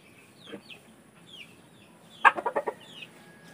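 A rooster clucks during a scuffle with a duck, a few soft calls early on, then a loud burst of four or five quick clucks close by, with faint bird chirps in the background.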